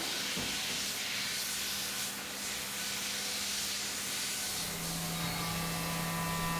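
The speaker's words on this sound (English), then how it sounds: "Inside the machine, a high-speed milling tool, bathed in coolant, precisely machines the outer surfaces of the casing." Inside a CNC milling machine, a high-speed tool bathed in coolant cuts an aluminium mini PC casing, giving a constant, broad hissing spray over a faint low hum, with no voices.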